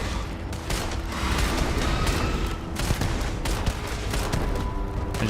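Dense, continuous Starfield gunfire and explosions rumble loudly throughout, a thick unbroken wall of shots and booms with no speech.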